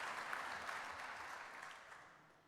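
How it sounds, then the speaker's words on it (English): Audience applause after a conference presentation, fairly faint and distant, tapering off gradually toward the end. "a big applause for your presentation."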